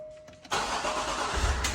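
A Range Rover engine cranks and catches after a brief electronic chime, then settles into a loud, steady idle with a low rumble close by.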